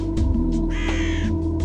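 Crows caw loudly nearby in a few harsh, repeated calls over a low, steady hum.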